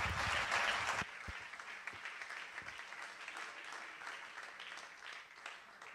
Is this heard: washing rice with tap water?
no